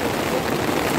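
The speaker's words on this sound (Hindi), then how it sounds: "शूट कर रहे तो बारिश शुरू हो गई" Steady rain patters on a surface nearby, a dense, even wash of drops with no voices.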